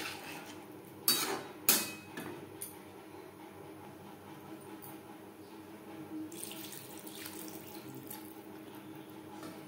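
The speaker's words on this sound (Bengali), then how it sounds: "এই পর্যায়ে দিয়ে দেব জল।" Water poured into a cooking pan of curry with sautéed vegetables for a katla fish stew, a running, splashing flow with a couple of sharp clatters of utensils early on, steady and close with no talk.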